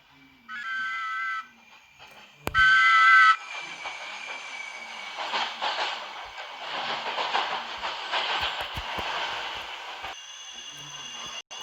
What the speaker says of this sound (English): We have a Victoria line train about to pass through platform 2.